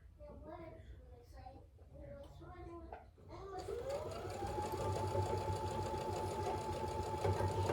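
Quilt block seams stitched on a sewing machine: after several seconds of people talking, the machine starts up and runs steadily and close, a continuous mechanical whir to the end.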